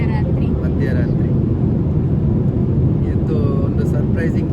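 A constant low roar of airliner cabin noise fills a nearly empty international night flight from Canada, steady and loud throughout with faint higher tones above it.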